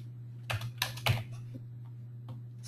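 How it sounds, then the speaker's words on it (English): Computer keyboard typing: a few quick clusters of keystrokes with short pauses between them, close and fairly quiet over a steady low electrical hum. "you keep typing categories in until you're done"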